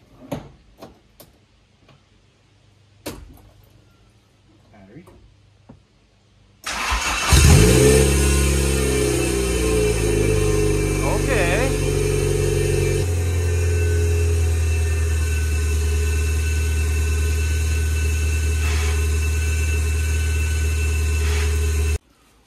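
A budget Honda CRX's engine cranks and catches after a few quiet clicks and knocks, then settles into a loud, steady idle that holds for about fifteen seconds before cutting off abruptly.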